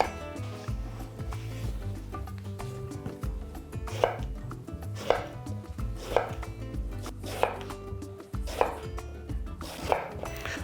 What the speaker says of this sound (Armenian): որից հետո սմբուկները կտրատում ենք մանր խորանարդիկների